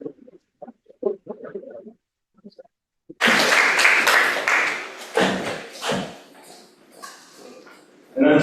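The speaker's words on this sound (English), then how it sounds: "So I'm going to give a round of applause," Audience applause for panelists at an industry talk event, breaking out after a few seconds of quiet murmuring, loud and dense at first, then thinning with brief gaps.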